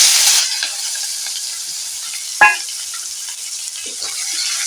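Chopped onion fries with cinnamon in hot oil for a fish kalia, a soft, steady sizzle with a brief louder crackle midway and light scraping, close and alone.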